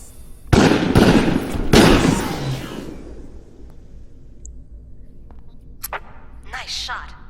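Pistol shots in the VR video game Raw Data, two loud close bangs about a second apart with reverberant tails, followed by quieter game effects and a brief electronic blip.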